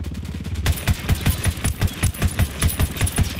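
Automatic rifle fire in Ghost Recon Wildlands, a loud rapid string of evenly spaced shots that starts after a brief lull and runs to the end.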